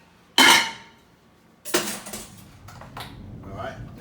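Tofurkey and vegetable stir fry being mixed in a pan: a loud clatter of utensil on metal, a pause, then a run of scraping and clinking stirs that continues at lower level.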